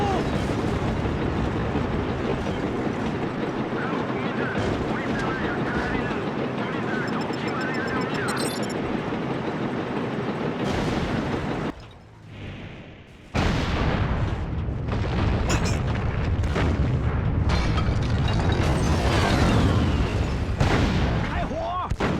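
Tank shell and machine-gun fire with explosions from a tank in the PS2 game Mercenaries, a loud continuous barrage of booms and bursts with a short lull midway, over game voices shouting.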